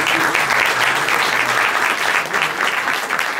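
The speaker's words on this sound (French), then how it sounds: "Antoine, on peut applaudir Antoine." An audience claps steadily throughout at a live improv comedy show in France, a dense, loud round of applause welcoming a performer on stage, with no talk over it.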